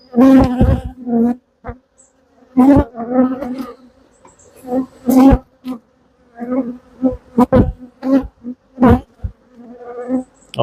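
Honeybees swarm loudly around an open hive being worked, a dense insect drone swelling and breaking into repeated close, buzzing bursts with short lulls between them.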